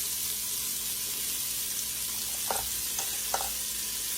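Steady, fairly quiet sizzle of sliced onion and garlic frying in a pan for a pork roast, with a few soft clicks and taps partway through and no voices.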